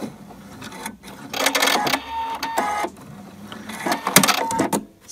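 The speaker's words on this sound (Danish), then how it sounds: "Og så kører maskinen 8 gange frem og tilbage," A domestic sewing machine stitching a button onto homemade pull-on baggy trousers, running in rapid mechanical bursts back and forth with short pauses between runs, close and fairly loud, no talking.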